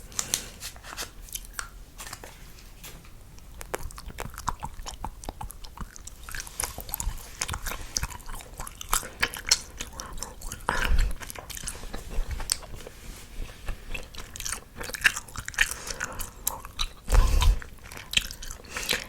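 Gum chewed right up close for whispered ASMR, a continuous stream of wet smacks and squelches with occasional louder crunchy bites, intimate and dense, with no clear talk.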